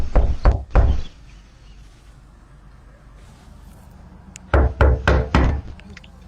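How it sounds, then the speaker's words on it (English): A fist pounds on a house door in two loud, close bursts: three heavy bangs, a pause of quiet room tone, then four more. "Open this door. I'm breaking it fucking down."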